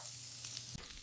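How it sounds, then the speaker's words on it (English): Beef burger patties sizzle on a hot grill, a steady close frying hiss with no break for the whole second and one brief soft dip near the end. "Hear that sizzle? That's the sound of flavor locking in."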